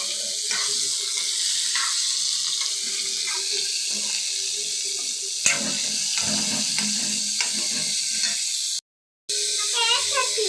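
Curry leaves and onions frying in hot oil in a home kitchen, giving a continuous loud sizzle with scattered crackles and pops and a brief silent gap near the end.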